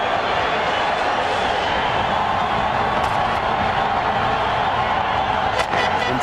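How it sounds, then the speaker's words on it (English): A loud, vocal football crowd at the Orange Bowl in Miami roars in a dense, unbroken wall of sound during a Gold Cup match, with occasional louder shouts rising out of it. "Very noisy vocal crowd on hand here"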